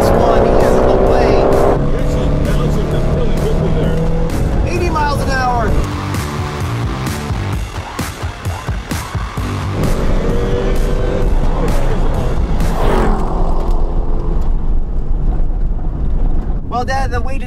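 A Chevrolet Corvette's LS1 V8 engine roars at full throttle during a drag race, revving hard through rising and falling pitch sweeps, loud and close, with voices talking over it.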